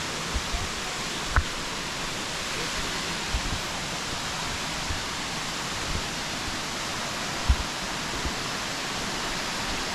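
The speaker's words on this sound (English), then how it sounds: "The bottom of the waterfall." Steady broadband roar of a waterfall at its base at Seven Wells, Langkawi, with water rushing continuously and loudly up close, a few faint knocks and footsteps under it.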